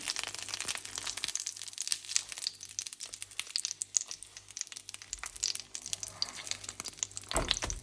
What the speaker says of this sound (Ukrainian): обсмажуємо наші чебуреки до золотистої